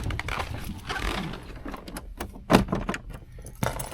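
A key jangles and scrapes in the lock of a 1988 Cadillac Brougham that won't turn, producing uneven metallic rattles and clicks up close, with one sharper clack partway through and no talking.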